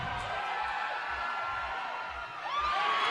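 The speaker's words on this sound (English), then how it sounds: "Crowd's getting behind him." Crowd at a USA Climbing National Cup bouldering competition cheering on a climber's final attempt, a steady murmur of voices and whoops that swells near the end, with commentary over it.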